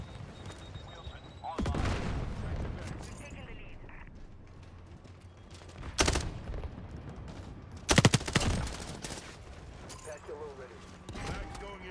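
Bursts of automatic gunfire from the video game Modern Warfare come in several sharp volleys over a few seconds, loud against a background of game sounds, with a player talking intermittently.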